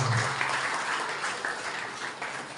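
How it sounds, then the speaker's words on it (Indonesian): Applause from a Hindu community gathering in Bali, a steady broadband patter of many hands clapping at moderate loudness that holds evenly for a few seconds without speech. "Tepuk tangan untuk kemajuan kuil kita di Bali bersama."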